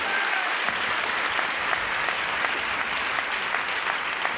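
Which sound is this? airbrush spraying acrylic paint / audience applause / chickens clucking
audience applause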